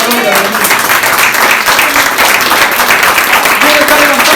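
Worshippers at a church service break into steady, dense applause that fills the whole moment, loud and close, with some shouting voices mixed in.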